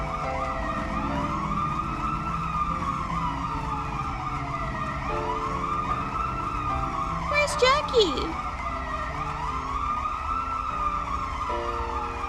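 An ambulance siren wails continuously in a video game, loud and cycling up and down alongside game music, with a brief clatter partway through and a voice speaking over it.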